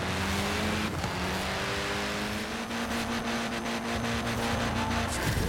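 A Rally Monsters car roars through a race in Forza Horizon 4, its engine droning steadily with shifting revs and gear changes, loud and continuous with no talk.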